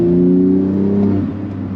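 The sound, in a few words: modified BMW G80 engine revving while driving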